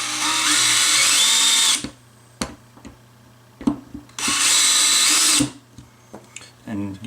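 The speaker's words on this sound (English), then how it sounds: "we're going to just mark it with a drill for the first hole" A power drill bores holes into an AK rifle grip in two loud, whining bursts of about two seconds each, separated by clicks and handling noises, with a third burst starting at the end.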